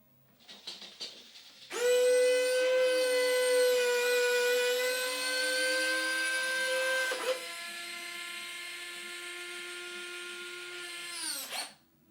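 Electric scale retractable landing gear on an Xfly-model T-7A Red Hawk 80mm RC jet whirs through a long, steady servo-motor drone, pitch shifting midway, then stops with a click; close and clear, preceded by faint handling noise.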